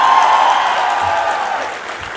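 A convocation audience at a graduation ceremony applauds its parents and mothers, producing a loud, dense, steady wash of clapping with crowd noise throughout.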